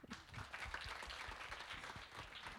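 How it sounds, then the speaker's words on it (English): Audience at a university international night cultural show giving a round of applause, dense clapping from many hands sustained at an even level for the whole stretch, somewhat distant and with no voices over it. "Let's give another round of applause."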